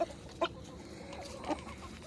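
Chickens and a rooster in a backyard coop let out a few faint, short clucks, spaced irregularly over a quiet background with no talking.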